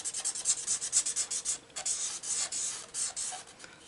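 A chisel-tip marker colours on paper in a fairy-themed colouring book, making close, rhythmic back-and-forth rubbing strokes that run steadily for several seconds with brief pauses.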